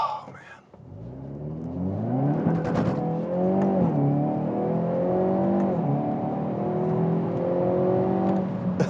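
Hyundai Veloster N engine revving hard in first gear, close and loud, with rising and falling harmonic pitch sweeps as the revs climb, drop and build again, continuous throughout.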